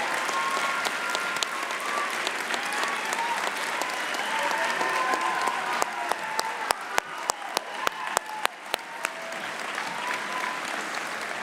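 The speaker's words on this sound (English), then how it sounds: "All that applause for him and honor" A crowd claps steadily at a Class of 2022 commencement ceremony, continuous applause with a run of sharp, close individual claps standing out in the middle before the sound evens out again.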